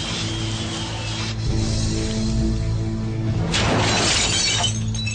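A firebomb striking an untreated glass window, a loud crash of shattering glass followed by a long spray of falling fragments and a second burst of breaking glass near the end, no speech.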